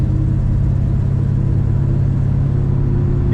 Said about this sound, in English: Today we're driving a 1955 Chevrolet.